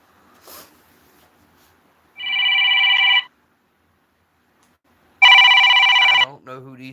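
A phone rings with an incoming spam call, two loud electronic ring bursts about a second long separated by silence, followed by a brief voice.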